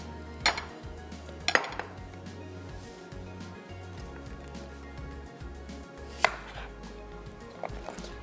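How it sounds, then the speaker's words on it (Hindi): Onions are sliced on a cutting board: a few sharp, sparse knife knocks come close against a quiet kitchen background, with long gaps between strikes. "प्याज को करेंगे स्लाइस"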